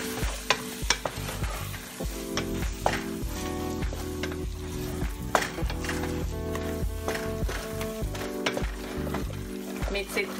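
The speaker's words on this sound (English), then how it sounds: "Add in the frozen bean." Frozen beans tumble into a hot frying pan of cottage pie filling and are stirred, giving a steady close sizzle and frying hiss with scraping and clinks of a utensil against the pan throughout, with no talk.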